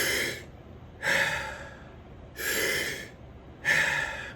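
Slow, deep breathing done as a relaxation exercise: four long, loud breaths evenly spaced about every 1.3 seconds, each a full airy inhale or exhale, close to the microphone with no talk.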